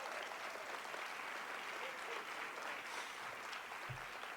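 A ceremony audience applauds a speech at a women's summit, a dense, steady wash of clapping that holds at an even level throughout, heard from within the room.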